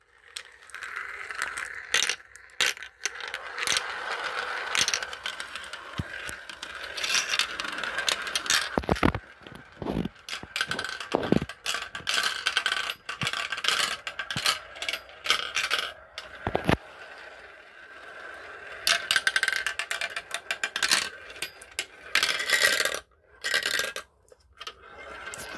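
Plastic marbles roll and clatter down a marble race track, a busy stream of light clicks, rattles and scraping rolls with sharp knocks as they drop through the course, close and continuous.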